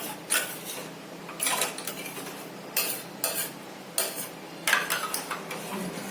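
A spoon scrapes and swishes around a pot of rice and water in regular strokes, roughly one per second, close by and without talk.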